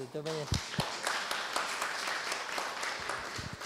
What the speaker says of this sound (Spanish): y por último, un aplauso.